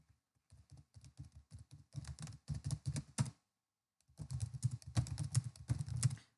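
Rapid typing on a computer keyboard while writing C# code, with crisp clustered keystrokes in two bursts separated by a short pause. The sound is fairly quiet and there is no voice.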